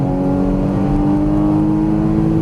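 Porsche Cayman GTS engine on a race track, a steady loud drone holding through a gearchange on an upshift, with no voices over it.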